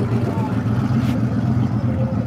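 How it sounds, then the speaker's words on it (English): A low, rumbling engine idle from a truck's exhaust at a car show, steady and nearby, with a person talking over it. "Check this exhaust out."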